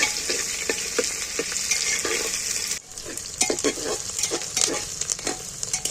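Onions fry in hot oil as they are stirred often, giving a steady sizzle with a rhythm of scraping strokes and a short pause in the middle.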